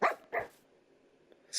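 A dog barks twice in quick succession in the video game Cave Dweller, then a pause before a third bark, fairly close and clear against a quiet background.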